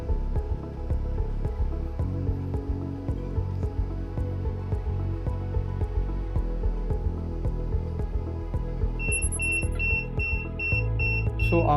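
A wearable health-monitoring device for an Alzheimer's patient sounds its medicine reminder, a short series of buzzer beeps arriving near the end over a continuous hum and regular ticking.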